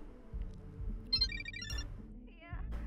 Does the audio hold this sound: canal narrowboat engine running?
no